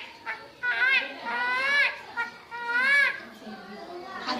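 A voices an imitation of a newborn baby crying, a series of rising, wavering wails repeated a few times in quick succession, loud and close.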